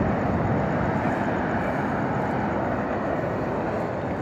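A long freight train passing very close, a loud, steady, broadband roar and rumble of wheels and cars that fills the whole stretch without letup.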